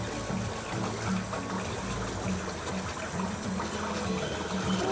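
Water runs steadily at a fountain feature at EPCOT, a continuous gushing and trickling wash that holds at an even level. A faint low pulsing hum, like a pump, sits underneath, and no talk is heard.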